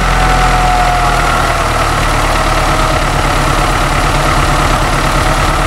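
A car engine idles loudly and steadily up close, a low, even rumble with a faint rattle and no voices.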